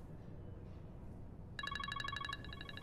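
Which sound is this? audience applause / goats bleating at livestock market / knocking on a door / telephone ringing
telephone ringing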